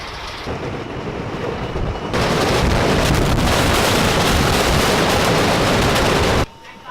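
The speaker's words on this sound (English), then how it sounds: "so now we're on the J train" A New York City subway J train rides across the Williamsburg Bridge, with a loud, dense rumble and rattle that swells sharply partway through and holds steady before cutting off near the end.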